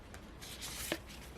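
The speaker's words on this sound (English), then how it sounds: "I have to shuffle these slowly because they are so difficult to shuffle" Tarot cards are shuffled slowly by hand, giving a soft, brief papery rustle with one sharp little snap near the end, close and quiet.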